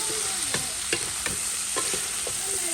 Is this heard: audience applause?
no